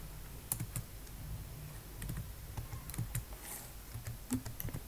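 Quiet, irregular clicks of fingers typing on a computer keyboard at a desk, light keystrokes in short uneven bursts with soft background hiss and no voices.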